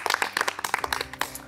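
A small group claps in short, uneven bursts for a cameraman who worked on a forest survival shoot in the Laurentides, the clapping close and lively over about a second and a half.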